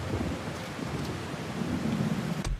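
Steady rain with low rumbling thunder in a stormy scene from the video game Days Gone, a continuous wash of falling water under a rolling low growl, with one brief sharp crack near the end.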